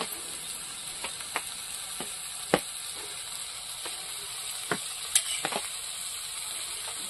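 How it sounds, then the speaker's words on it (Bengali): Taro greens get stirred with cumin paste in a pan for an ilish fish head dish, with scattered faint spatula clicks and taps over a quiet, constant sizzle. "জিরে বাটা দিচ্ছি আর ঘাটি বাটি লাগলাম তো। কচু শাকটা যত ভালো ঘাটা যাবে তত স্বাদ হবে ভালো।"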